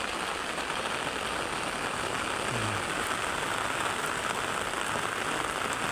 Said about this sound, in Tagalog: Inabot na naman tayo ng ulan.